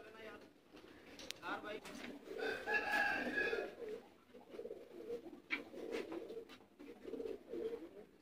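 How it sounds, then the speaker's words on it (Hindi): A breeding pair of pigeons coos in a loft under a rooftop, faint and low, with a voice talking over them and other birds calling nearby. "जोड़े वाले कबूतर"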